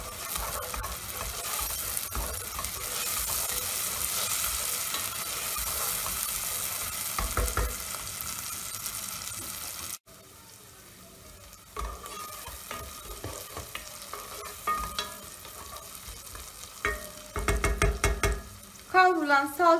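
Carrots sauté in a pan with tomato paste and pepper paste, a continuous close sizzle with stirring, then after an abrupt break, quieter frying with intermittent spoon scrapes and clatters.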